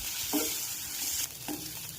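Cut muthiya made with fang leaves sizzle in a pan with salt, coriander-cumin powder and red chilli powder as a spoon stirs them, giving a steady frying hiss with a few soft scraping strokes close by.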